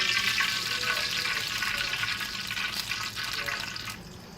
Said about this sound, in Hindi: वो हम 2 कप इसमें घी डालेंगे